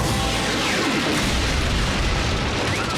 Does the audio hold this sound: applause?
no